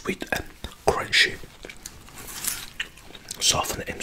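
Close, crisp bites and wet crunchy chewing of ripe Piel de Sapo melon come in short bursts with soft pauses between.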